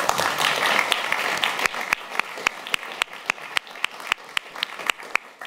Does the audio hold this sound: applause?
yes